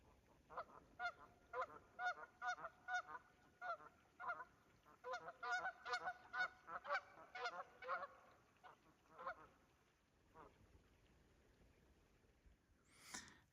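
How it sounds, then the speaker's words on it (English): Canada geese honk in a quick series of loud, repeated calls at a pond in Franconia Notch, New Hampshire, bunched in the first eight seconds before thinning to a few faint, scattered honks. "And we got some Canadian geese"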